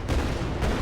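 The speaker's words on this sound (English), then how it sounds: "Shoot, reload, shoot, throw a few grenades, just test it out." Gunfire in a third-person shooter video game, a dense continuous burst of shots heard up close with no talk over it.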